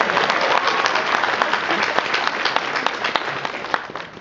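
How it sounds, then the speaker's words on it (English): Audience applause at a Wizard World Richmond 2015 convention panel, a steady round of dense clapping filling the room for several seconds, close and loud, with a few sharper individual claps standing out as it tapers at the end. "Good round of applause for Ethan."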